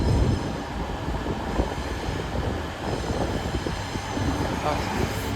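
East Midlands Railway test set 810 018 pulls into Newcastle station with a steady, loud rumble of wheels and engine that holds close and continuous throughout, without letting up.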